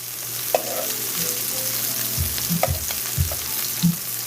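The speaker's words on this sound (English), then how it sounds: "you get this kind of char right here that I'm getting on these shrimp without burning your food" Shrimp sear and sizzle in a hot SODAY pan for shrimp and grits, a steady close frying hiss broken by a few clacks and scrapes of a utensil stirring.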